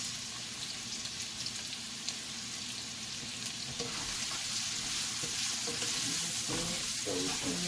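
Half a medium onion frying in a pan for Salisbury steak, a dense continuous sizzle heard up close, growing slightly louder toward the end with some stirring, no voices.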